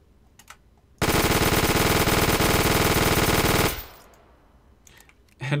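An MG42 machine gun in a video game fires one long, loud, continuous burst at a very fast rate of fire, a ripping buzz lasting nearly three seconds before cutting off and echoing away, with faint clicks before and after.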